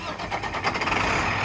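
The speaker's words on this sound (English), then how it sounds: "an International DT466 turbo diesel engine, which starts right up and sounds great" International DT466 turbo diesel engine in a 2006 International 4400 digger derrick truck cranking and catching, rising quickly into a loud, close, rumbling idle within a second and a half.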